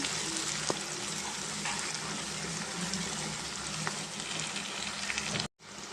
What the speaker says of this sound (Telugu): ఇది కొంచెం పచ్చివాసన పోయేదాకా మనం ఫ్రై చేసుకున్నాం